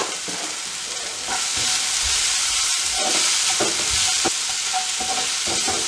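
Onion with a pinch of turmeric sautéing in a pan for vendakkai paal curry makes a loud, continuous sizzle broken by stirring scrapes and a brief dip midway, close by and without speech.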